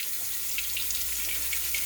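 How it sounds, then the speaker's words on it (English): Tap water runs steadily into a sink while beets are scrubbed with a vegetable brush, a continuous close hiss with faint brushing texture throughout and no talk. "I'm going to do that under running water with a vegetable brush."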